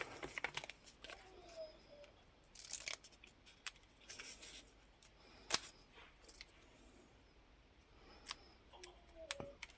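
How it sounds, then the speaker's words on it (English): Quiet, close scissor snips cutting out paper symbols and crisp paper rustles come in irregular bursts, with sharp clicks scattered between them. "Scissors."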